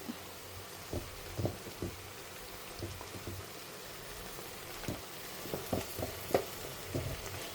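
Spices, red chilli powder, turmeric and pulao masala sautéing in a pan for a home-cooked pulao, giving a soft, steady sizzle with scattered light crackles and pops, fairly quiet and close.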